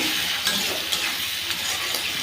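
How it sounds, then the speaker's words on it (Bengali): Potatoes fry with salt and turmeric in hot oil in a pan, a steady close sizzle broken by several soft scrapes of stirring. "ওই তেলের মধ্যে আলুগুলো ভাজা করে নেব নুন হলুদ দিয়ে"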